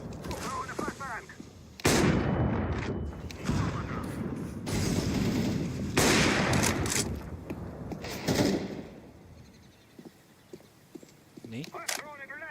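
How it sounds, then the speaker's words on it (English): Grenade blasts and bursts of gunfire in a Path of Exile-style action video game, loud and repeated over roughly the first nine seconds, with players talking excitedly throughout. "I'm throwing a grenade!"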